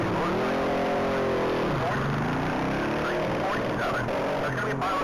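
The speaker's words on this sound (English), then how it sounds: "That is a silver 1999 Ducati Custom." A silver 1999 Ducati Custom motorcycle pulls away from the starting line at a standing-mile top-speed race, its engine note sweeping upward loud and steady under crowd noise and an announcer's voice.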